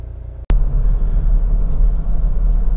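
A 2009 Honda CR-V 2.2 i-CDTi EX diesel on a road test, a steady low engine and road rumble from inside the cabin, loud and continuous after a brief cut at the start.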